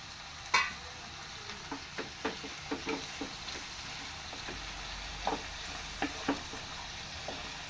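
Brinjal and pea curry with tomato stirred in a pan, soft sizzling frying beneath a string of sharp spoon scrapes and taps repeating every half second or so, close and fairly quiet, no talking.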